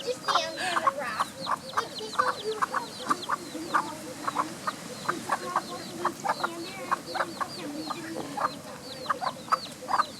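Chickens cluck close by at a small hotel lodge, a busy run of short repeated clucks and chatter that carries on throughout at moderate loudness.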